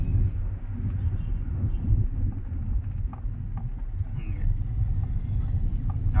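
Inside a Toyota Etios Liva diesel hatchback on the move, a low road rumble and muffled engine hum run steadily, with faint scattered knocks and clicks from the cabin and no voices.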